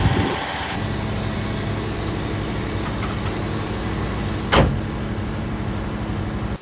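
A 1987 Ford F-150 engine runs at a steady idle, a close, even low rumble that holds throughout, with one short sharp noise partway through and no talking.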